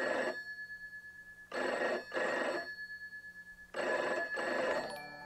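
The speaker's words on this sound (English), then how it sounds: "The Tommy Innit phone" A telephone rings inside a video game in two pairs of bursts, with a steady electronic tone droning underneath and no voices.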